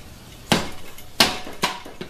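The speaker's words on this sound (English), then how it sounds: "I'm going to get my hammer here and just" A hammer taps a 2-4 servo assembly into a 4L60-E transmission case, giving three sharp metallic strikes at uneven intervals, close and fairly loud.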